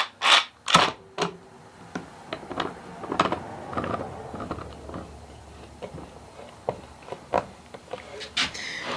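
A clamp is tightened on a wooden box joint sled in a woodworking shop, giving a series of short, sharp mechanical clicks and ratcheting knocks, close and spaced irregularly, with no talking.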